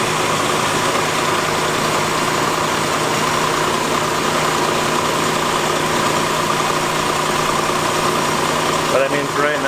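A Nissan Xterra engine, started after long storage on freshly charged batteries, idles with a steady rumbling drone, close and constant, while people talk over it.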